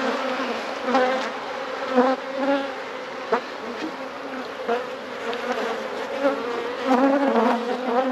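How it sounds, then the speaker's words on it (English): Honey bees buzz steadily around an opened hive, a dense close drone with individual insects swelling louder as they pass near, continuous throughout with no talking. "Shake the bees out by hand."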